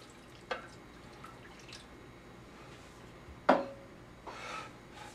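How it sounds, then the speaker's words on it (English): A little water added to the bottom of a roasting pan holding a spiral-sliced ham: a few sharp splashes and drips, one louder pour burst near the middle, then a soft trickle, close and quiet with no talking. "I'm going to add just a little bit of water to the bottom."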